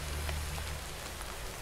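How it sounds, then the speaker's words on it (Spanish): Steady rain falls in the Minecraft modpack CrafTopia, a dense, even hiss of drops close by that continues throughout with no talking. "Encima está lloviendo."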